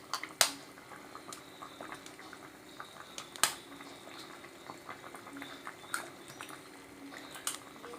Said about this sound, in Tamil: இப்போ பார்த்தீங்கன்னா குழம்பு நல்லா கொதிச்சிருச்சு பாருங்க